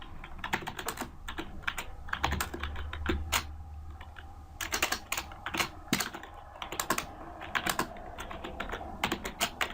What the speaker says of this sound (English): So I'm just gonna hurry and type this out.